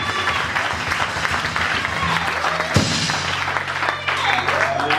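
A church congregation at a Sunday service claps together in a sustained round, loud and full, with voices mixed in and a thump partway through.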